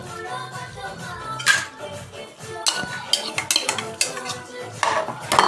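Metal spoon scraping and clinking against a pot while masala is stirred into mutton curry, irregular close clatters and scrapes repeating through the clip with no talk.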